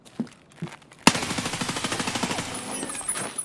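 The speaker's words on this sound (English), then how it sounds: "Oh, that wasn't you shooting?" Automatic gunfire in the Escape From Tarkov shooter game: a couple of faint distant shots, then a sudden loud, sustained burst of rapid fire pulsing rhythmically for over two seconds, with no speech over it.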